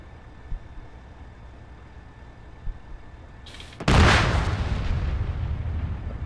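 Explosions and gunfire aimed at a Strider in a video game: a low, steady rumble, then one sudden loud blast that swells into a sustained, roaring wash of noise.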